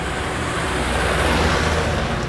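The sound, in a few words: cotton truck passing by on road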